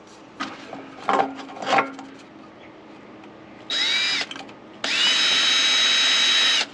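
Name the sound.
power drill drilling holes in metal shield for hobo stove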